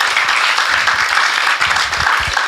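A church congregation applauds after a sermon, with loud, sustained clapping from a crowd filling the room, steady for the whole stretch.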